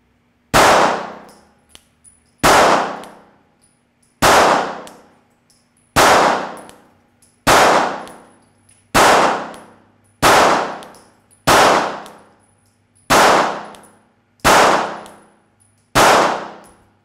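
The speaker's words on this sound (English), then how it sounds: "Here we go, first shots with the Kimber R7, 7 yards." Kimber R7 Mako microcompact 9mm pistol fired at 7 yards, eleven sharp loud reports in a steady, evenly spaced string, each with a short ringing decay and no talking.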